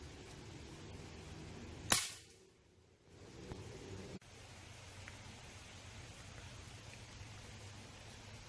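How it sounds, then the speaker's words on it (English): An airgun fires a single BB, a sharp, close crack followed by a brief fading tail, set against a quiet outdoor background with no talk. "you can shoot a BB out of it now"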